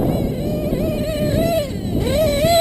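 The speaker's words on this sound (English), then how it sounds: "This engine is violent." Modded 28.8 Rex nitro engine in an RC buggy screaming at high revs, with a steady, loud, close whine rising and falling as the throttle is worked.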